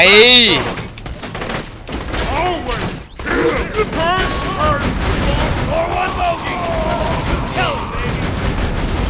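A game turret with twin barrels fires purple slag rounds in Borderlands 2, producing loud rapid bursts of gunfire and booms that continue almost without pause, with a voice audible over the shooting.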